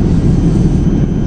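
Steady broadband drone of a Qatar Airways airliner cabin in flight, a dense low rumble of engine and airflow noise, continuous and even throughout with no voices.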